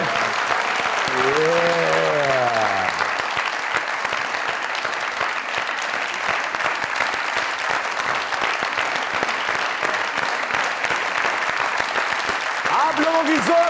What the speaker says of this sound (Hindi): आप लोगों की जोरदार तालियों में